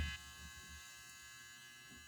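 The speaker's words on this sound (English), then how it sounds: "Sorry, that's my dryer." A home clothes dryer runs with a steady low electric hum and faint buzz, a constant quiet drone in the background with a short bump at the start.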